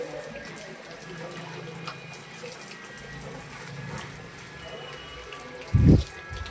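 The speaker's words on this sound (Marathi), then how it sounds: "एवढंच बाकी फक्त पाणी मारून जातं वरचे वरचं" Water hosed over a bicycle being washed, a steady diffuse spray hiss throughout with a brief heavier splash near the end.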